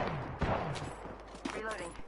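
Apex Legends gunfire crackles in a few sharp bursts of shots, moderately loud and mixed with game voice lines and a little talk.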